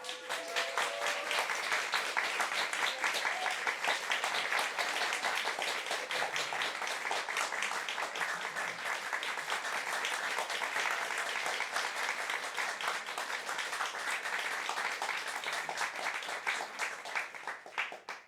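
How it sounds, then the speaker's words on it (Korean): Sustained audience applause fills a concert hall after a Schubert Winterreise recital for baritone and piano, dense and steady for about eighteen seconds before fading at the end. "네 박수가 있어요."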